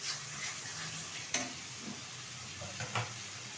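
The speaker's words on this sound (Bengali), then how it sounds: "ভালোভাবে কষিয়ে নেব মশলাগুলো একসাথে।" Spices and ginger paste for a Bengali chicken and potato curry are stirred and frying in a pan, a steady soft sizzle broken by a few scraping stirs, close and alone with no talk.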